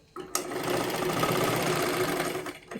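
A sewing machine stitches blouse fabric in one continuous close run, a steady mechanical hum with rapid needle rhythm, starting after a brief click and ending near the close.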